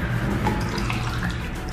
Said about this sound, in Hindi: अच्छा तो ये उसकी बॉटल भर चुकी है और इसमें आप अगर पानी डालेंगे